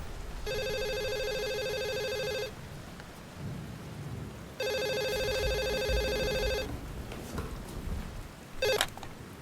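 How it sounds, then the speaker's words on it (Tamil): A telephone rings in two long electronic bursts separated by a pause, in an apartment during a rainstorm with soft rumbling in the background, followed by a brief click at the end. "11:33 வர ஃபோன் கால்."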